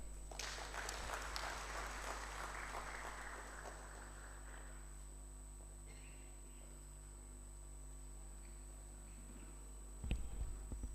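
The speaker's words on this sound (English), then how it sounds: "Let us give him a befitting hand clap." Audience at a graduate research policy dialogue forum claps in a burst of applause that is loudest in the first few seconds, then thins out and fades under a steady room hum, ending in a brief clatter.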